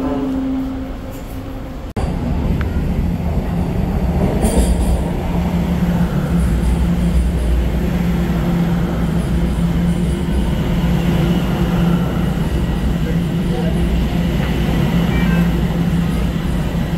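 A subway train arrives at a station in downtown Toronto. After a short quieter stretch, a loud, steady rumble and rolling rail noise begins and holds close by, with faint high squeals above it.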